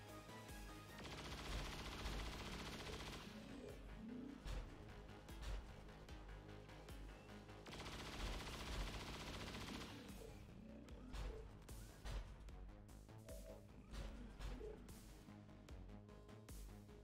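Rapid bursts of chain-shot gunfire from an XCOM 2 soldier, dense crackling volleys arriving in two loud waves with steady battle noise and impacts between them.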